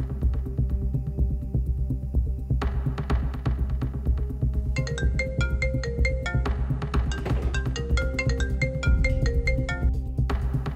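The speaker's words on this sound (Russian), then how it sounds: "Вера, как же я долго ждала твоего звонка!" A phone rings with an incoming call, its electronic ringtone repeating in patterned bursts over a low background hum, with no one speaking.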